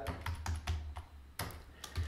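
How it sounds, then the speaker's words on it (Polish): A password is typed on a computer keyboard to log in to a Linux server over SSH: a quick run of close, crisp keystrokes in uneven bursts, ending with a firmer key press. "Wpisujesz oczywiście to samo hasło, którym logujesz się na swój serwer, Enter."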